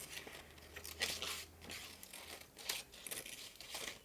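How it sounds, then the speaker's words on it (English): Paper images being roughly cut out with scissors for a collage page, a faint run of soft snipping and crinkling strokes with brief bursts, close by and alone. "I'm just roughly cutting these out."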